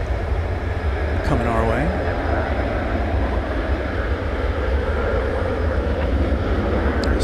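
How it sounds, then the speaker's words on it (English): An Airbus A380 taxis down the runway at night at DFW Airport, giving off a steady, continuous broad rumble throughout, with someone speaking briefly over it. "as we watch it taxiing down the runway, you'll see the Airbus A380"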